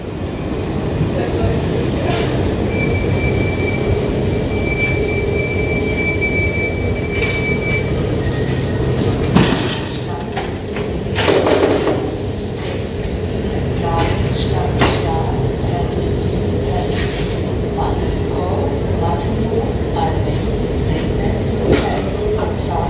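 Train rumble fills a railway station in Lucerne with rolling wheel noise, faint squeals and clanks, while people talk in the background throughout.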